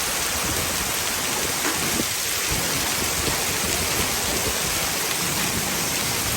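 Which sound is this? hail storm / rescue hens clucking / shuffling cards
hail storm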